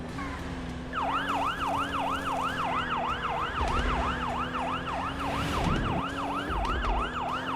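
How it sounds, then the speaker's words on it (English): Wailing emergency siren in the game Used Cars Simulator, rising and falling rapidly and steadily over a running car engine, loud and continuous. "How can that siren sound like it's behind me?"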